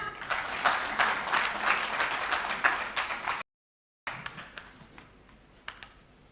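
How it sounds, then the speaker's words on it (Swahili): An audience at a live event applauds with dense, steady clapping, breaks off for a moment of silence, then returns with thinner, scattered claps that fade out. "Makofi tena."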